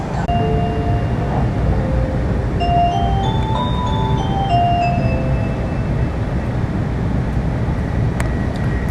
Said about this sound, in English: These little ditties that are so familiar to us from our American music, the different ones are heard at different times on many of the different transportation systems